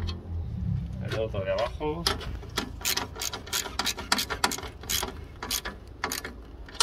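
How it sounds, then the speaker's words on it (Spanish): A ratchet wrench tightens the bolts on an air conditioner mounting bracket, giving rapid rhythmic clicking bursts at close range while someone speaks between them. "Con esta de Carraca. Pues aprieto muy bien."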